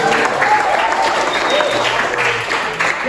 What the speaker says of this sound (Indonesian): buat Agus, tepuk tangan.